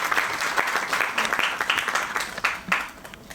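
A seminar audience in Bhavnagar claps loudly and continuously to welcome the municipal commissioner on stage, with dense hand-clapping that swells and then slowly thins out.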